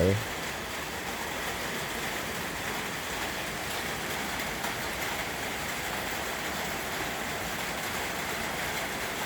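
Steady, even hiss of light morning rain falling outdoors, continuous and soft across the whole stretch with no voices.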